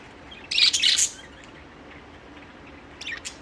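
Budgies and lovebirds chirp in a home aviary, with a loud, close burst of sharp tweets near the start and a softer flurry near the end over quiet background hiss.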